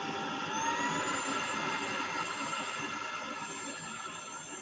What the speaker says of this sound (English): And then I vacuum my mattress.